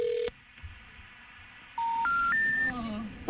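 A telephone number is dialed on a landline keypad: an opening DTMF tone, a pause, then three rising keypad tones in quick succession, clear and close under a faint background murmur.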